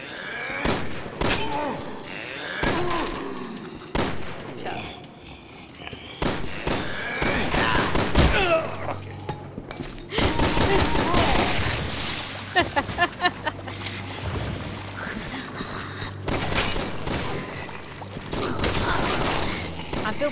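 Repeated gunfire in Resident Evil 6 with Leon and Helena, set in a cemetery: sharp shots come in rapid bursts and scattered single bangs over game noise, while players talk throughout.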